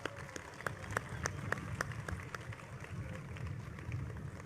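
A crowd applauds the gold and silver medal winners at an outdoor festival in Rustavi's central park, with faint, evenly spaced claps over a low murmur and a voice speaking.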